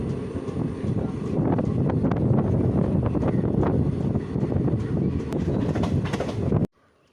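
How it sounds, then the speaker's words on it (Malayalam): Train pulling into platform 1 at Ottapalam railway station, a loud steady rumble with clattering wheels and wind buffeting the microphone, continuing for about six seconds before cutting off abruptly. "ട്രെയിൻ ഇപ്പോൾ ഒറ്റപ്പാലം സ്റ്റേഷൻ്റെ 1-ാമത്തെ പ്ലാറ്റ്ഫോമിലേക്ക് കയറുകയാണ്."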